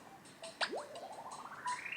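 A cartoon frog croak from a Korean alphabet learning app game for toddlers, with bright synthetic chirps and a rising whistle-like sweep, moderately close and fairly quiet, with no talk over it.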